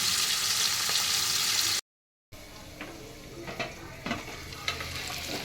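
Chopped tomatoes are stirred as they fry in a pan for a vegetarian okra dish. A steady sizzle runs throughout, with scraping spatula strokes and soft clanks, and there is a brief dropout in the middle.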